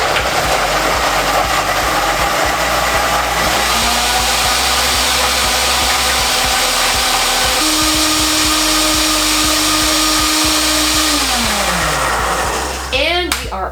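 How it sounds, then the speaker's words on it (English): A kitchen blender whirs loudly and continuously, stepping up in pitch from a low setting to higher speeds, holding at the top speed, then winding down near the end. "we're gonna start, as with all blenders, at a low setting and then go slowly to high"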